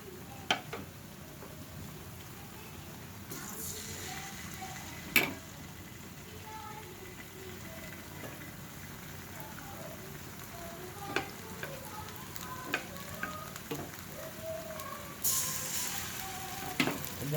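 Potato and pointed gourd pakoras fry in hot oil with a steady, soft sizzle, dotted with occasional ticks and small clatters of the pan, without any talking.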